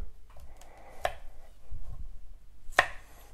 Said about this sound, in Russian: Также мы морковочку нарезаем крупными кубиками.